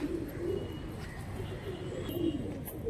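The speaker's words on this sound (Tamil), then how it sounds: "இன்னும் நிறைய புறாங்க இருக்குது" A flock of pigeons kept for sale in Vellore coos in a dense, continuous chorus of low throaty burbles, close and fairly loud, with no talking over it.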